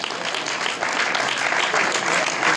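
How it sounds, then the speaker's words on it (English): Audience at a high school basketball banquet applauding steadily, a dense wash of clapping that holds loud throughout, with no talk over it. "You guys give them a round of applause."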